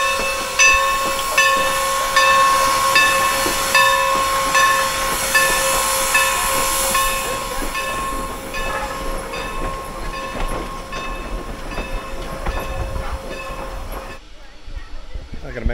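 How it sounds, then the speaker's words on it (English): Norfolk and Western 475 steam locomotive departing a station platform in Strasburg, a sustained loud hiss and rumble with a steady whistle-like tone running throughout, fading abruptly at the end. "So we got 475, looks like it's gonna be the first train coming down."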